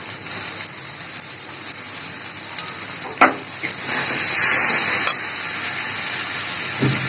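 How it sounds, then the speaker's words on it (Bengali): Ginger and spice paste fry in a pan for a chicken gizzard curry, with a loud, steady sizzle that swells midway, plus occasional scrapes of stirring and no talk. "আদা আমি ভাজা ভাজা করে নিচ্ছি ভালোভাবে"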